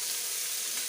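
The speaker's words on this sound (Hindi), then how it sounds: "टिके भाजीदेबा।" Vegetables such as beans sizzling steadily in a hot pan while cooking veg upma, a brief continuous frying hiss with no voices.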